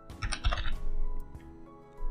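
Fast, close keystrokes on a computer keyboard during code writing come as a dense burst of clicks and then thin out to a few scattered taps.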